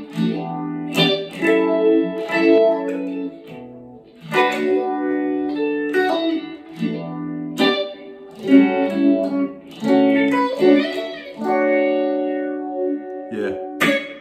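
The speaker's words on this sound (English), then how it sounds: "Get some quite cool sounds if I bring the speed way back on the setting, resonance and the sweep way up." Electric guitar chords and notes played through a Phase Four phaser pedal set to slow speed with high resonance and wide sweep, giving a swirling, slowly shifting tone that rings out alone in several strummed phrases.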